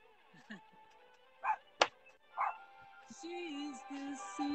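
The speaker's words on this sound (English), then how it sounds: "that dog is like craving your attention or something." A dog gives a few short, scattered yips and barks that are sharp and fairly close. Quiet background sounds run underneath, and a steady tone joins toward the end.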